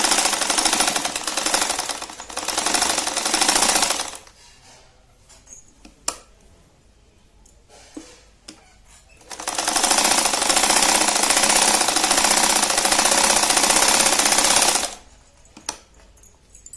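A sewing machine stitches three sides of a kitchen hanging towel in two long bursts of rapid, loud mechanical clatter, separated by quiet pauses with small handling clicks.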